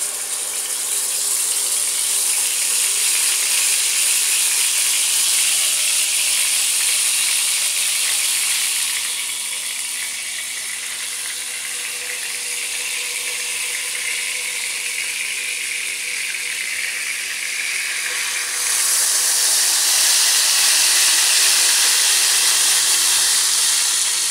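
Chicken pieces sizzle loudly on a hot tawa in a steady, bright hiss that dips slightly midway and then swells again, close and continuous with no talk.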